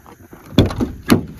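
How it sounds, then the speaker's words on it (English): The door of a crusty Dodge Ram 2500 4x4 pickup with a worn-out bottom hinge, giving a couple of close, dull metallic clunks and a short rattle as it is moved and shut. "And this door here, the hinge is pretty wore out."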